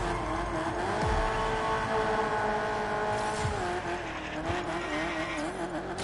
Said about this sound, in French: j'entends strictement rien avec le bouffon que ça fait, cette voiture-là